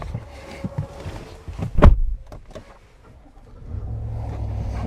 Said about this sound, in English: Got that beautiful, healthy V8.